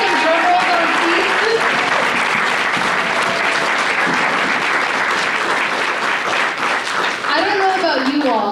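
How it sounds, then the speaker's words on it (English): A large press-conference audience applauds the winners of the Ballpark NEXT design competition with loud, dense, sustained clapping that runs the whole stretch, mixed with a few cheers and voices. "Can we give the winners another round of applause and maybe some drum rolls on seats?"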